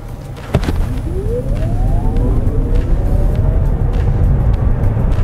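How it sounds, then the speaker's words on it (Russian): A Chevrolet Spark EV electric car accelerates from a standstill, its motor whine sweeping smoothly upward in pitch over steady road and cabin rumble, heard from inside the car without talk. "Очень-очень хороший разгон, очень ровный, бесступенчатый."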